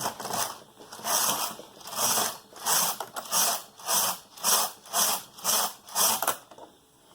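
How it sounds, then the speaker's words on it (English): A knitting machine carriage knitting rows of waste yarn, sliding back and forth with a steady rhythmic rasp, about eight even passes close up with no talk. "knit a few rows of waste yarn just to get started"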